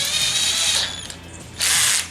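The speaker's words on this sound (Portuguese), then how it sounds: "Para trocar a broca também você pode fazer pro outro lado, que ela sai." A power drill run in reverse to loosen its chuck and release the bit in a woodworking shop, two bursts of close, loud whirring and ratcheting separated by a short pause.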